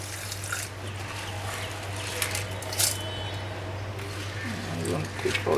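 Water poured into a pot of South Indian sprout curry with soaked sprouts, a soft trickling and splashing under a steady low hum, with a voice talking over it.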